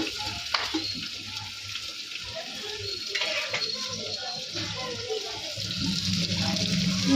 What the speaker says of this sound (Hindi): इस पे हम प्याज ब्राउन करेंगे